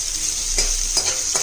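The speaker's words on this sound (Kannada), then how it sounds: "ಲೈಟ್ ಬ್ರೌನ್ ಆಗೋವರೆಗೂ ಫ್ರೈ ಮಾಡ್ಕೊಳ್ಳಿ" Onion or spices frying in a pan on low flame for Chicken Donne Biryani, a steady close sizzle with a few soft stirring scrapes and no voices.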